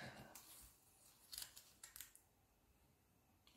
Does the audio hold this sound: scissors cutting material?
yes